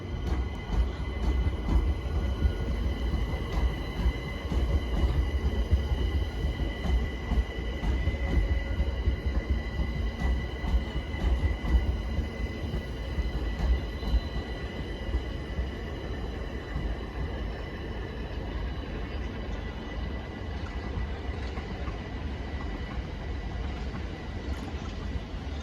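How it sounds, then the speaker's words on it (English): A Class 378 electric train arrives at a London station, its steady rolling rumble and faint wheel squeal continuing throughout at close range, with no voices over it. "Arriving now is 378 138 terminating here."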